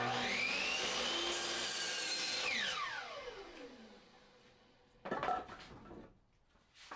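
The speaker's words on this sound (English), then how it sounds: "since I'm cutting them on the miter saw" A miter saw spins up and bites through a wooden board, whining loudly before the motor winds down in a falling tone, followed by a brief clatter of wood being handled.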